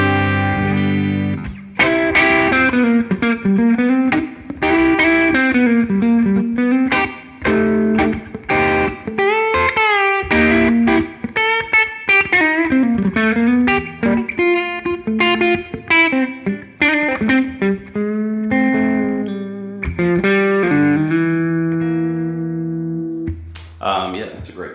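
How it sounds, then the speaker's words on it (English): A G&L ASAT B-bender electric guitar played through its treble pickup with gain, with bright, driven notes and bends ringing out loudly in a continuous melodic phrase. "Treble pickup with gain is really great."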